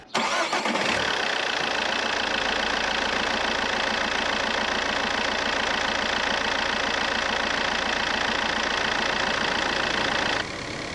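A car engine cranks and catches, then settles into a loud, steady idle with a constant hum that lasts about ten seconds before cutting off abruptly.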